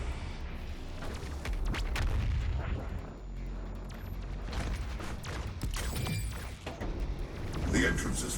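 The BFG 10,000 in Doom Eternal fires, producing heavy artillery-like blasts and booming impacts over a continuous rumbling roar, with a voice speaking over the din.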